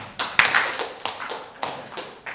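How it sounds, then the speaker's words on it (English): An audience tries a clap style with fingers spread wide, known as the Moroccan clap, making a handful of sharp, uneven hand claps that ring out one after another at a loose, irregular pace. "Let's hear that clap"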